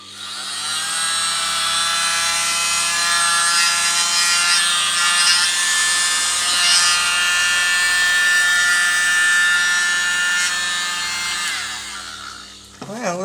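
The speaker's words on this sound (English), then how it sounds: "I'm going to be using the world's smallest blower" A tiny blower works over poured acrylic paint to spread it into a bloom, giving a steady, close whirring hum with bright harmonic tones that runs almost unbroken for about twelve seconds and then cuts off.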